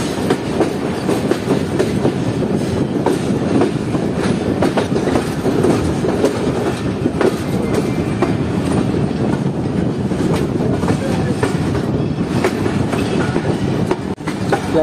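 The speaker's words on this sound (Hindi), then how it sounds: "प्लेटफॉर्म नंबर 2 की तरफ बढ़ रही है हमारी ट्रेन" A Pak Business Express passenger train rolls toward platform 2 at a Pakistani station, heard from inside a carriage: steady loud rumble with rhythmic clickety-clack of wheels over rail joints and faint squeals.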